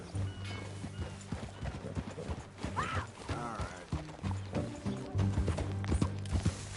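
Horse hooves clip-clopping at a walking pace in the video game Red Dead Redemption 2, close and rhythmic, with a short whinny midway and a few brief voices.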